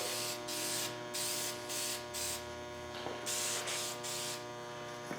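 Spray paint can laying a light coat on Harley-Davidson motorcycle parts, heard as several short hissing bursts over a steady background hum.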